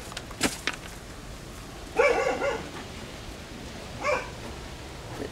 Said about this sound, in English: The dog's still angry.